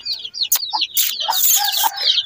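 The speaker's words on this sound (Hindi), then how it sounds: "यहाँ पर ये देखे मुर्गी के बच्चे हैं छोटे छोटे से" Small baby chickens in a rural village yard give a run of high chirps and peeps, close and fairly loud, with no talk over them.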